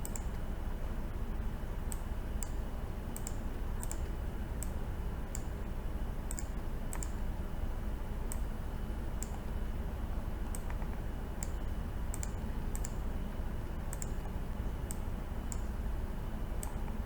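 A computer mouse clicking during work in a database program, sharp isolated clicks at irregular intervals over a constant low room hum, close and fairly crisp, with no speech.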